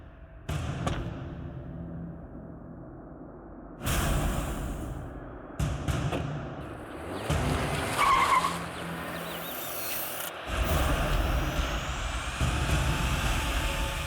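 A car skids and pulls away in a staged crime-drama kidnapping scene, with loud bursts of tire and engine noise separated by quieter gaps, ending in a sustained rush.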